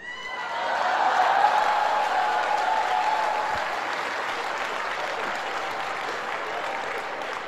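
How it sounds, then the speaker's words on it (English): Studio audience of women clapping steadily with a bit of laughter mixed in, a dense sustained wash of applause that swells early and holds at a fairly even level throughout. "Notice how all the women are laughing and clapping."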